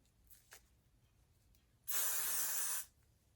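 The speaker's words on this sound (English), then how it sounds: "take your holding spray, spray it in the front" Holding spray hisses from a can onto a bald cap at the hairline in one loud, close burst lasting about a second, after a few faint rustles.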